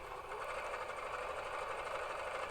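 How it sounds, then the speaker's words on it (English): Sewing machine running a line of stay stitching on stretchy fabric for homemade shoulder pads, a faint, steady mechanical whir with rapid needle chatter. "now I'm going to put in some stay stitching because the top curve is much more dramatic than the bottom curve"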